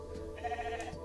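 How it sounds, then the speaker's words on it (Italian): A cloned sheep in the video game The Alters gives a single short, wavering bleat at close range. "Una pecora."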